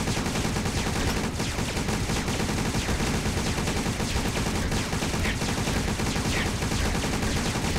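Gunfire in a tower defense video game sounds as a constant, dense rattle of rapid shots, loud and unbroken throughout, with no voices.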